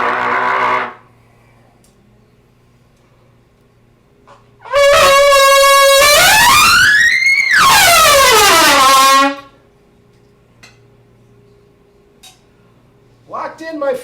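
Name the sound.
trumpet playing first warm-up notes of the day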